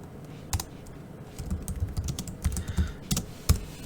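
Typing on a computer keyboard while entering chat text, with irregular clusters of close, crisp key clicks and a few sharper strikes, no voices.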